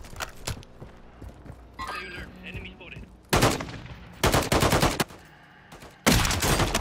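Gunfire in the Warzone video game: a few sharp single shots, then loud sustained automatic bursts in several separate runs, with a player's voice talking faintly beneath.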